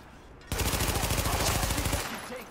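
A sustained automatic burst of gunfire in the shooter Tom Clancy's The Division: a rapid, evenly spaced stream of loud, close shots lasting about a second and a half, then a fading echo.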